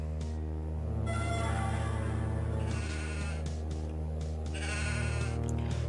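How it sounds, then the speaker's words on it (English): Sheep in Hexen 2 bleat several times in drawn-out, wavering calls, alone over a steady droning game soundtrack. "I'm not gonna kill sheep, no way."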